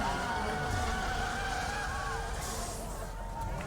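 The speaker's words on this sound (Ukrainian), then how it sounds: "Ох, я буксую." Car wheels spinning in Need for Speed Underground 2 during a drag race, a steady dense engine and tire roar that runs loud and unbroken throughout, with faint talk beneath it.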